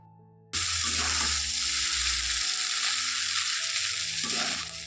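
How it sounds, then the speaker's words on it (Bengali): Chowmein noodles with meat masala are stir-fried after an abrupt start, giving a loud, continuous sizzle with soft tossing and scraping beneath it. "এখন ভালো করে একটু নাড়াচাড়া করে ভেজে নিয়ে হয়ে যাবে আমার রেডি চাউমিন"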